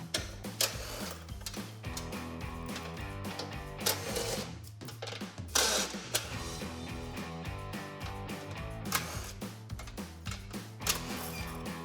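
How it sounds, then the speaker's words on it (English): A ratcheting wrench works 15mm nuts off the inner bumper of a Jeep Gladiator JT, giving rapid, close clicking bursts with clanks and metallic knocks in between, fairly quiet and with no voices. "Now I'm removing the inner bumper using a 15mm, and there will be 8 of these nuts."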